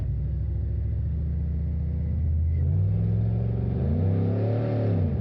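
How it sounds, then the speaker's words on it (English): A V8-swapped Toyota Celica engine drones steadily, then its pitch jumps and swoops as it downshifts to second gear, a close, rumbling rise and fall with no talking. "Oh, that was a downshift."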